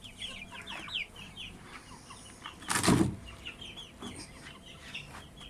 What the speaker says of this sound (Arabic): ودي البط الصغير اهو